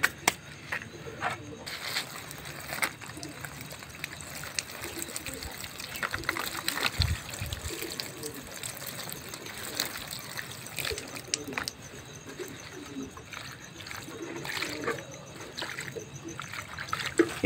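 Water poured from a container onto the soil of a freshly transplanted potted Arabian jasmine, a steady trickling splash throughout, with a voice talking at times underneath.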